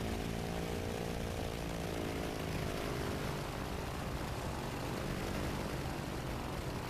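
A propeller plane's engine in the IL-2 1946 flight game drones loudly and steadily, with a harmonic whine rising slightly as the throttle opens. The sound is close and continuous, with no talking.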